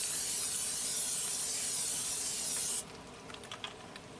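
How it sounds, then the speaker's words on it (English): Cooking spray hisses steadily into a skillet for nearly three seconds, a close, loud broadband spray that cuts off abruptly, followed by faint light clatter. "now we're going to put some cooking spray in our skillet"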